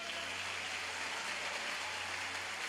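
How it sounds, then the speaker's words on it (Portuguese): A church congregation at an evangelical congress applauds together, a dense, even, rain-like patter of clapping that holds steady and sounds somewhat distant. "Você pode aplaudir bem forte o nome de Jesus?"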